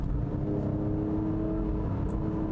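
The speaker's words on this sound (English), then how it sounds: "Listen to that engine." A 2019 Alfa Romeo Stelvio QV SUV on summer tires holding a steady engine drone while cornering on an off ramp, a low sustained hum heard from inside the cabin.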